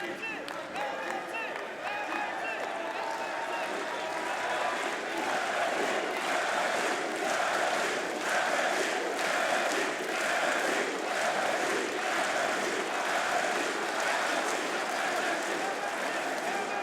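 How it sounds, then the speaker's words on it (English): Esports arena crowd at a Counter-Strike Munich Major lower bracket playoff final, a steady dense roar of cheering and shouting that builds slightly and holds loud throughout, with voices blended into the din. "they want to hear you roaring for them"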